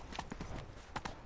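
Horse hooves clip-clopping in a PS4 video game, a few soft hollow hoof knocks over a low background rumble, brief and fairly faint.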